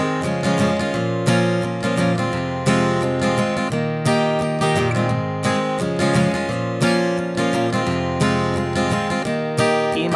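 Guitar strums out the intro chords of a song in a steady, driving rhythm, each chord struck cleanly and ringing into the next for about ten seconds with no talking.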